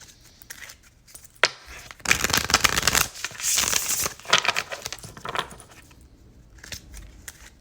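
Tarot cards are shuffled close by with dry riffling, rustling and slapping, quiet at first and then building into a busy stretch of rapid shuffling before settling into softer taps.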